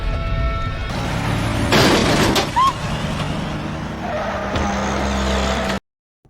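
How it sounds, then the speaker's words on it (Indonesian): Box truck striking a person as a dramatic sound effect: engine roar and tire skid building to a loud impact boom, then a whoosh and rumble that cut off abruptly into silence. "Orang tersebut meninggal tepat setelah ditabrak mobil box."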